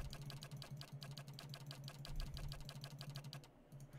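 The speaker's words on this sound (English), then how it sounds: "I apologize if you can hear my mouse clicking." Rapid, crisp computer mouse clicks during a Pillars of Eternity play session, a quick irregular series of light taps close to the microphone, fairly faint against a low background hum.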